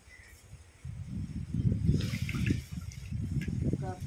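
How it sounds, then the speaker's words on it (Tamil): Fish pieces rinsed under a running kitchen tap for a Tamil-style fish fry, a steady close splashing of water over the fish and into the sink that swells after the first second and continues throughout. "மீனை நல்லா கட் பண்ணி க்ளீன் பண்ணி நல்லா வாட்டரில் வாஷ் பண்ணி எடுத்து வச்சுக்கலாம்"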